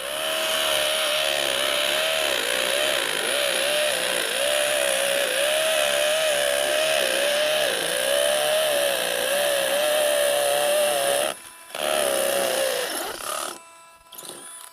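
A DeWalt cordless brushless hammer drill runs in a long, loud, steady whine with a wavering pitch, then stops briefly and restarts before trailing off, with no talking.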